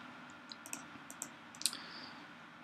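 Faint, quick mouse clicks in close pairs, as when double-clicking a field in ticket-management software, tick several times in a quiet room over a soft background hum.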